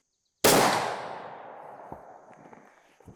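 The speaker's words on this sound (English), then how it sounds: "So now we're shooting the Powerbelt ELRs. This is a 330 grain bullet." A muzzleloader loaded with Triple Se7en powder fires a Powerbelt ELR 330-grain bullet: one loud, close blast with a long echoing tail outdoors, followed by a couple of faint thumps.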